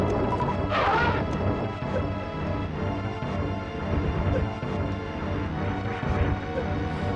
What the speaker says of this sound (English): let's just show off what he does if I shoot him with a super missile